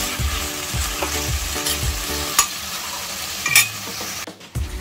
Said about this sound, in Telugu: మనం ఇప్పుడు టమాటో వేసుకుని మంచిగా మిక్స్ చేసుకుందాం